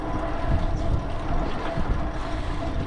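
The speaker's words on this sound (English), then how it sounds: "Wind has been absolutely atrocious lately." Steady March wind buffets the microphone during an e-bike ride on the Wabash Cannonball Trail, Oak Openings, in a low, continuous rumble with gusty swells, heard outdoors and alone.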